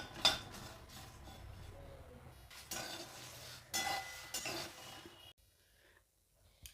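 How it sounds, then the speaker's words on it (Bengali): Dry-roasted biryani spices are scraped and tipped from a pan into a bowl, with quiet clinks and scrapes of metal utensils in a few short bursts before falling silent. "মশলা ভাজা হয়ে গেছে। এখন আমি একটা পাত্রে নামিয়ে নেব।"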